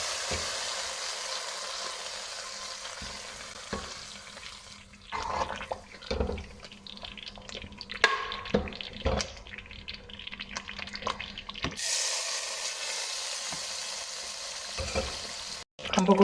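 Hot oil for tadka (tempering) crackles and sizzles in a pot while making kadhi pakora, with bursts of spattering and clinks of utensils in the middle, then a steady hiss returns.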